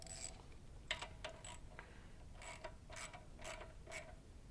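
A ratchet tightens the bottom bolt on a Coleman 200 minibike torque converter, producing quiet, close clicking bursts in short repeated runs with brief pauses between.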